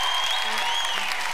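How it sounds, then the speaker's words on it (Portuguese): Brief burst of audience applause during a studio interview, a short, even wash of clapping with faint tonal sounds over it. "Uma salva de palmas para o Marcelinho"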